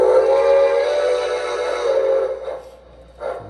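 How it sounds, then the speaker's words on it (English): MTH Premier Texas Type 2-10-4 model steam locomotive whistle blows a loud, sustained chime-like tone for a few seconds, then fades and gives a short second toot. "That sounds like a fairly accurate whistle representation of this engine"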